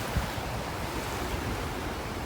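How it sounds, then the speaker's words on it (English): Atlantic Ocean surf rolls onto a beach in Puerto Rico where a river meets the sea, a steady dense wash of waves mixed with heavy wind buffeting the microphone. "And then this is the ocean,"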